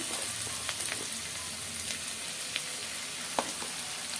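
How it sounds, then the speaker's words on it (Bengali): Ginger-garlic paste frying in a pan, a dense crackling sizzle throughout with scattered sharper pops and a few stirring scrapes, close and without speech. "এখন দিয়ে দেবো আদা রসুন বাটা"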